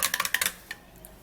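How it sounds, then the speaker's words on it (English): Spoon clinking against a glass or cup while stirring a turmeric skin drink: a quick run of bright metallic taps followed by one last clink, close and alone. "And then we would stir this all up together very well."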